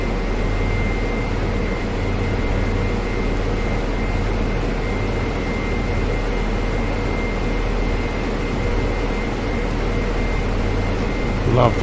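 Helicopter in flight near Ibiza Airport, heard from inside the cabin as a steady, loud droning hum with a constant rotor-and-engine tone that holds unchanged throughout.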